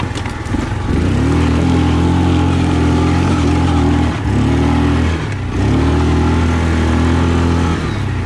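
A 2020 Yamaha Kodiak 450 EPS ATV on a trail ride, its engine loud and close, rising in revs through three acceleration pulls separated by brief dips in throttle, with no talking.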